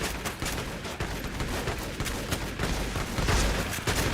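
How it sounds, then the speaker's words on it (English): Rapid bursts of gunfire from enemies in a modded Fallout New Vegas playthrough, a dense steady barrage of shots with louder volleys near the end. "They're all trying to shoot at him."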